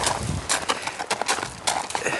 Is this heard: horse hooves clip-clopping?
yes